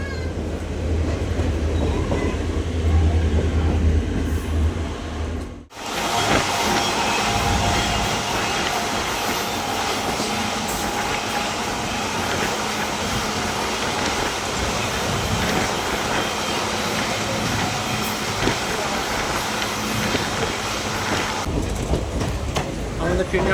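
The Malda Court–Siliguri DEMU passenger train 75719 rolls along the rails near Kishanganj. A loud, continuous rumble and rhythmic clickety-clack is heard from inside the carriage, briefly dipping once, with someone talking over it.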